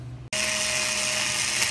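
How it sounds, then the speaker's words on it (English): Cordless screwdriver fitted with a drill bit boring through an M5-1 bayonet trench knife blade, a steady loud whine with a high tone held for over a second after a short start. "all I'm using is a cordless screwdriver and a drill bit."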